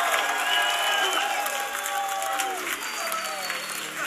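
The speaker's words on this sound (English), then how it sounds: "Give yourselves a round of applause." A crowd at a reparations rally in Washington, DC applauds in a dense, sustained wash of clapping with scattered cheers and a voice rising over it, tapering slightly toward the end.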